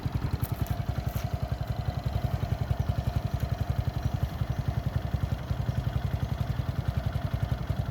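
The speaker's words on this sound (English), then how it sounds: "You can hear how nice the engine runs" A Honda CT70 small motorcycle engine idles steadily up close, a fast even putter with light mechanical clatter throughout.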